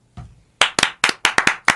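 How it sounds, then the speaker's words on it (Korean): A few people clap on a Korean talk show, single sharp claps and short bursts in an uneven rhythm, close and crisp against an otherwise quiet room. "살짝 한 템포 살짝 늦게 박수 친 것 같은데"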